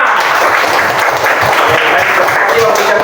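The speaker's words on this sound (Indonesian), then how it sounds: "Oke, tepuk tangan dulu semua." Classroom applause from students, steady and fairly loud for about three seconds, with chatter and voices mixed in underneath.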